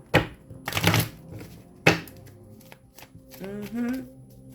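Tarot cards are shuffled close by in a few quick, crisp riffling bursts, after which someone speaks briefly.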